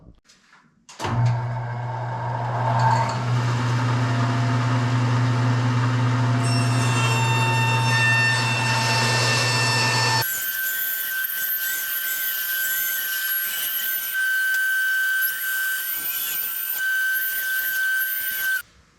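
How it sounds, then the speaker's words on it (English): A bandsaw runs and cuts through a plastic mud flap in a shop, with a loud steady whine that shifts to a high-pitched, squealing cut partway through and continues close by until it stops. "let's get some safety gear on and cut this up on the bandsaw"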